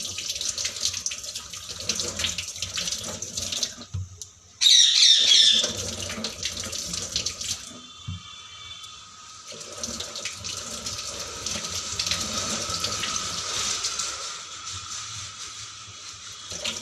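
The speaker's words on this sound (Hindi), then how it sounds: "तो बस यहाँ पर ये सब कुछ धोकर रख देती हूँ मैं" Kitchen tap water runs steadily into a sink while vegetables are washed for salad, a constant splashing hiss with a brief louder gush, no talk over it.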